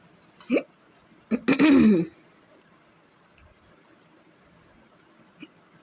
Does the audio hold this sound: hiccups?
yes